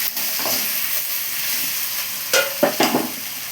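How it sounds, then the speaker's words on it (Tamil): Chayote, or chow chow, sizzles in a pan while being sautéed with other vegetables for avial. A soft, steady frying hiss is broken by a few scraping stirs near the end, with no talking. "சவு சவு போடலாம் அதையும் நல்லா வதக்கலாம்"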